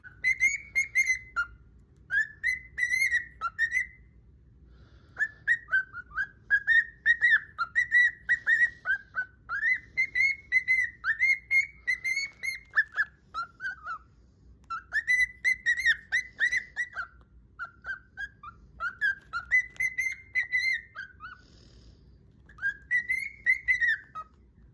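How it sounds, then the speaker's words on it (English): A pet bird whistles in repeated bright, warbling phrases with short pauses between bursts, close and fairly loud over a faint low background hum. "my pet bird Dusty wants to add his own input."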